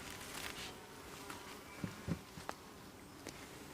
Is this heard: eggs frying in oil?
no